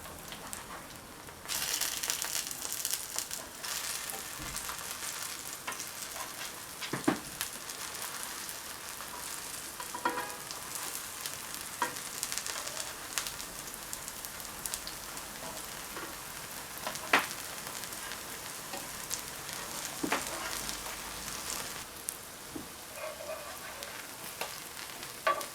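Caribbean banana fritters fry in a pan of oil with a steady, soft sizzle, close and continuous, occasionally crackling sharper, with no one talking.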